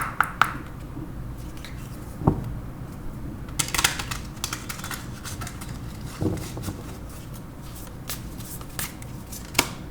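Tarot cards shuffled and drawn by hand, a soft papery riffle of crisp flicks and slaps in irregular bursts, close and fairly quiet with no voices.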